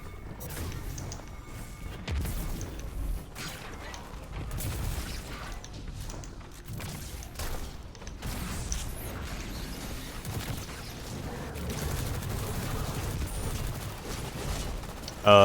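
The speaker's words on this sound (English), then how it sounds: "Now I'll show you why I like this shotgun." Shotgun blasts from the Destiny video game, played with a Warlock Void build, come as repeated heavy booming shots layered over continuous dense in-game action noise for the whole stretch.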